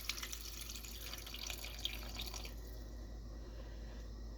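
Clam broth poured into a bowl of homemade stuffies stuffing, a soft continuous trickle and splash of liquid that runs steadily for a couple of seconds and then fades to a quieter room hum.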